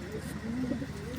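A Sirazi pigeon cooing close by, a low drawn-out purring call that swells and wavers, with faint talk in the background.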